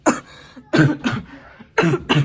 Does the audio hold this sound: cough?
yes